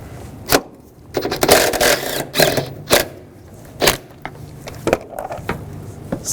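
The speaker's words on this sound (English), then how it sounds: "Just use a 13mm socket." Ratcheting 13mm socket loosening strut mount bolts on a 2010-2017 Chevrolet Equinox, with a string of sharp clicks and short mechanical bursts at close range and no talk.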